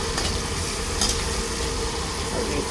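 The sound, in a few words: sautéing tomatoes in a pan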